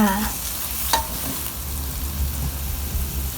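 Pork belly with stink beans, white soy sauce and sugar is stir-fried in a pan: a continuous near sizzle with scraping stirs and a sharp tap early on.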